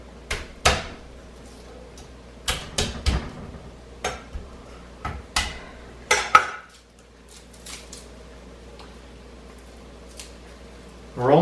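Garlic chopped with a knife on a board while making pasta and chickpea soup, giving a series of sharp, close taps in irregular bursts with brief pauses, then a louder thud near the end.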